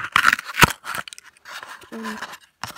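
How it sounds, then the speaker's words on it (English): Scissors cutting holes and shapes into a sheet of paper close up, a few quick crisp snips and rustles in short bursts separated by brief pauses. "I'm sorry for any like annoying noises from the scissors and everything"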